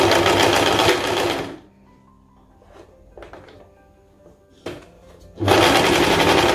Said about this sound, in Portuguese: eu vou vir aqui para começar a minha costura